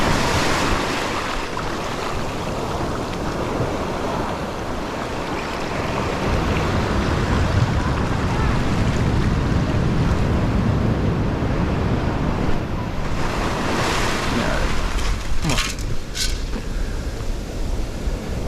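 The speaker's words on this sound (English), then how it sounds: "the waves are definitely unrelentless" Ocean waves crash and roll continuously on a beach with steady wind, forming a loud, dense wash of surf that swells and recedes with no voices.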